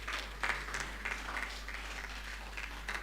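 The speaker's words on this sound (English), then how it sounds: "Let's give them a big round of applause." A conference audience gives faint, distant applause for speakers after a session, with scattered claps over a low electrical hum in a hall.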